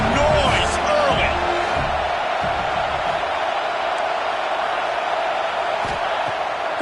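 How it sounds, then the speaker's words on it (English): Stadium crowd noise from a college football video game, Iowa hosting USC, a steady loud roar filling the whole stretch with a commentator talking over it. "This crowd bringing the energy and noise early."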